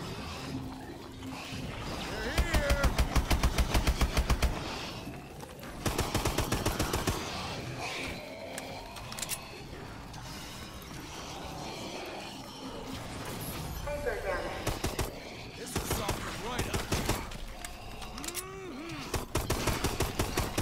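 Rapid automatic gunfire from the shooter video game Outbreak, in repeated loud bursts of machine-gun fire with single shots between them, heard under a speaking voice.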